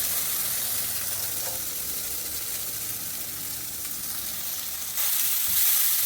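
Urad dal tipped into hot oil with asafoetida on a low stove, giving a steady, close sizzle and hiss of frying that carries on throughout and swells slightly louder near the end, with no talking.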